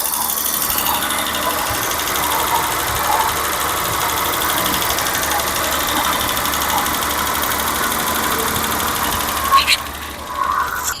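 An old BMW E30 with over 300,000 kilometers idles after fifteen years parked, with worn ignition parts and occasional misfires. The engine runs steadily and evenly throughout, with a slight bump near the end.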